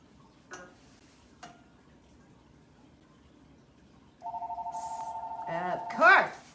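A telephone rings in a pet grooming room with an even, rapidly trilling electronic tone lasting about a second and a half, preceded by two soft clicks, then a voice speaks over the end of the ring.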